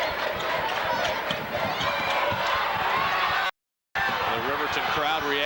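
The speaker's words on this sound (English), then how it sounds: "Crowd reacting to the defense of Jessica Gobert." Basketball crowd in a high school girls' Class A quarterfinal gym reacts to a defensive play, a dense steady roar with sneaker squeaks and ball thumps underneath, briefly cutting out before resuming.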